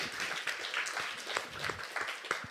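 A conference audience applauds at the close of a discussion session at an architecture research day: steady, fairly soft clapping from many hands, with a few sharper claps rising above the dense patter.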